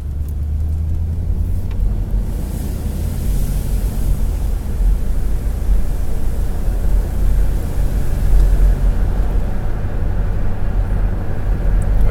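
A 1985 Chevy Caprice Classic station wagon cruises along the road, heard from inside as a steady, loud low rumble of engine and road noise that builds slightly toward the end, with no talking.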